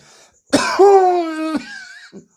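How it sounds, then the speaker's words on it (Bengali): A demonstrated vibrating dry cough: one harsh burst followed by a long voiced, buzzing throat tone lasting about a second, then a short faint catch, close and loud with no other talk. "এইবারে এর না ভাইব্রেটিং কাশি ভালোভাবে শুনুন"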